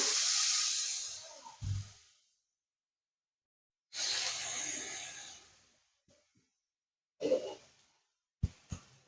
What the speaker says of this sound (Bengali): এই যে বেগুনগুলো কড়াইয়ের মধ্যে দিয়ে দেবো